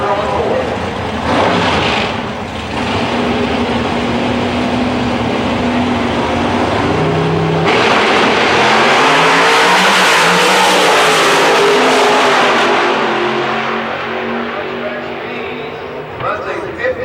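An NHRA Pro Stock drag race car at Houston Raceway Park, its engine roaring and revving hard and loud for a long stretch, with an announcer talking over it.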